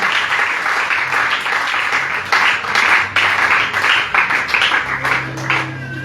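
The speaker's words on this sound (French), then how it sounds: "Acclame plus fort pour la gloire du Seigneur Jésus." A church congregation claps and applauds loudly and continuously, dense overlapping hand claps filling the room, with a low hum of voices beneath.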